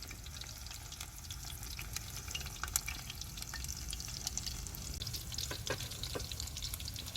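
Seekh kebab sizzling and frying steadily in a pan, a continuous close, even crackle with small pops and occasional stirring scrapes, no voices.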